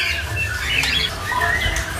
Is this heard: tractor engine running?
no